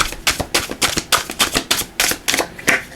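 Tarot cards shuffled by hand in a quick run of about a dozen crisp riffling bursts, close and fairly loud, with no talking.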